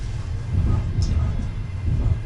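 Passenger train rolling through the taiga, a steady low rumble running the whole time with occasional clatter from the rails, fairly close and continuous.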